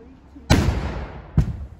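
Two sharp, loud explosion blasts set off for crime scene research, a big close boom followed by a decaying rumble and then a second shorter blast almost a second later.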